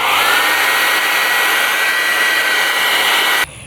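A heat gun set to full heat blows hot air onto truck badges, a loud, steady whooshing whine close by that cuts off abruptly near the end.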